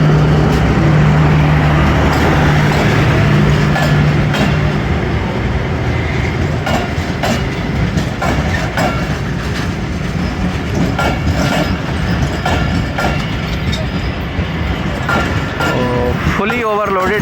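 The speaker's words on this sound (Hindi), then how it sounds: "फुली ओवरलोडेड जा रही है जाफ़र एक्सप्रेस।" The Jaffar Express passenger train, heavily overloaded, rolls past close by with a loud, steady rumble and rattling wheel clatter, a brief whine near the start and squeals toward the end, while someone talks over it.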